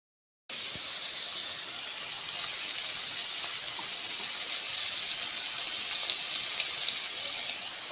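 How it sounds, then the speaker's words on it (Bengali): Starchy water from a pot of boiled rice being poured off in a steady, continuous gush, starting abruptly after a moment of silence and running loud and close without a break, with no voices. "এবার ভাতটা আমি গড়িয়ে নিই"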